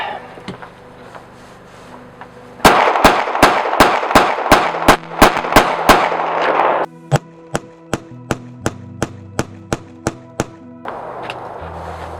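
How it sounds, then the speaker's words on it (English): Rapid shots from a Gen 5 Glock 17 9mm pistol fired outdoors at night in the snow, a string of sharp cracks followed by a second slower, evenly spaced series, loud and nearby. "I will follow up with the Gen 5 Glock 17 just because we got them out here"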